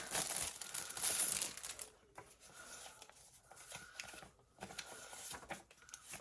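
Bird-print paper sheets from an online shopping haul being handled, giving close, intermittent crinkling and rustling with soft paper taps in uneven bursts, no talking.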